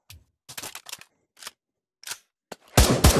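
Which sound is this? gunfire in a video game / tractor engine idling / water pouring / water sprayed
gunfire in a video game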